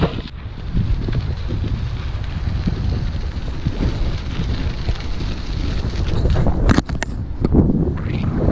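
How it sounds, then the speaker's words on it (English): Strong wind blasts across an outdoor microphone, a steady low buffeting roar that gusts louder toward the end, with no clear voice over it. "And it's so windy now."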